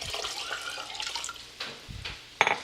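Water runs and splashes from a tap into a pot, a steady close pour with a few brighter clinks near the end.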